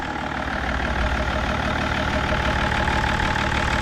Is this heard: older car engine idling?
yes